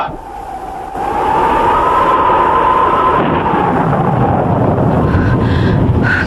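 Storm effect from a Hindi radio drama: a steady, loud roar of wind and rumbling thunder swells in after a quieter first second and holds throughout, with a whistling gust rising and falling over it.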